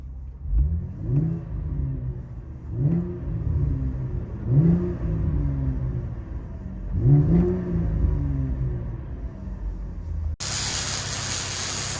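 Inside a 2012 Chevy Camaro 3.6L V6 with a loud aftermarket exhaust, a muffled cabin drone swells and falls through several rising pulls of acceleration, steady and fairly loud, ending in a burst of rushing noise.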